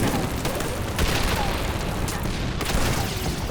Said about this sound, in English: Explosions and shell bursts illuminate the battlefield.